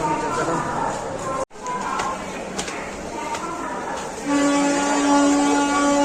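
A passenger train at a busy railway station in Odisha: rumbling carriages and clattering wheels, with a steady horn-like tone rising near the end, while people talk and a crowd murmurs around.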